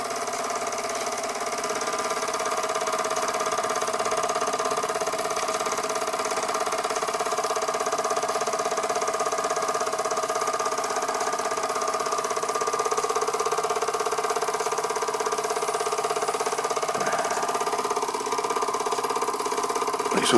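A restored Bing toy steam engine runs on steam with a steady, even mechanical hum and fine rapid chuffing. It holds a constant pace, close and moderately loud, with a small knock near the end.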